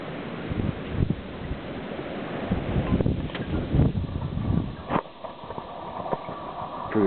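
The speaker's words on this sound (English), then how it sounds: "There's a wind gust now." Wind gusts roar in a blizzard with whiteout conditions, a broad, buffeting rush of noise that swells and drops unevenly with occasional thumps, close and loud, with no voices.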